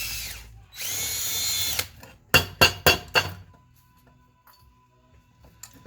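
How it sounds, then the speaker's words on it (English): A power drill whirs for about a second, then several short drilling bursts follow in quick succession before fading to quiet tapping. "now I have to drill out these little connections underneath here"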